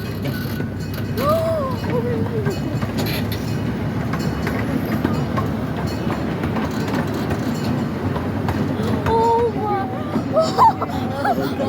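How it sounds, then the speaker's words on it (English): A zoo train crosses a trestle bridge over the Salmon River, rumbling steadily with rhythmic clickety-clack from the wheels, a few faint squeals, and indistinct voices murmuring in the background. "Now we are going to go over our train trestle, or train bridge."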